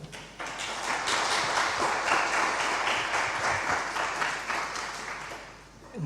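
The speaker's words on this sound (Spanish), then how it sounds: "nada mejor que darles pues un aplauso de bienvenida" Warm welcoming applause from an audience at a panel event, a dense sustained patter of clapping that swells in quickly, holds steady, then tapers near the end.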